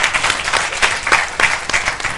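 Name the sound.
studio audience applause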